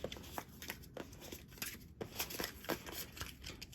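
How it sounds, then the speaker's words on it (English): A tarot deck, an unofficial Schitt's Creek set, is shuffled by hand in a steady run of close, papery riffles and soft slaps of cards, with no talk. "I'm going to go ahead and shuffle this deck"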